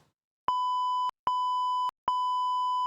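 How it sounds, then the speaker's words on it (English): Three loud, pure electronic beeps, each about half a second long with brief gaps between them, alone with no other sound. "I'm gonna have to beep it out"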